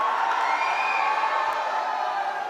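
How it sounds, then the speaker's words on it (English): Basketball crowd cheering steadily in the Thyagraj Sports Complex during an INBL Pro U-25 game between Gujarat Stallions and Punjab Warriors, a loud, continuous indoor roar of voices with no clear breaks. "the noise in here is off the charts. The crowd is into the game"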